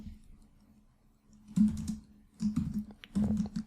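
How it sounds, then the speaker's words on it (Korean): Bursts of keyboard typing in short clusters, close and fairly quiet, separated by brief pauses with a low steady hum underneath. "그대로 타이핑을 해볼게요"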